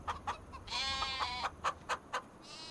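Chickens cluck and squawk repeatedly in Farming Simulator 25, a near, agitated run of clucks with one drawn-out call in the middle.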